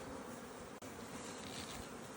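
Honey bees hum steadily at a queenless nuc beehive, a dense, continuous buzz heard up close with no voices.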